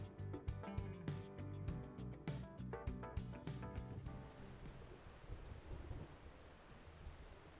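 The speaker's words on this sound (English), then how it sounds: "it's raining." Steady rainfall in the video game Xenoblade Chronicles X, a dense wash of rain noise with rumbling low tones, first mixed under a punchy rhythmic music track and then continuing alone at a moderate level.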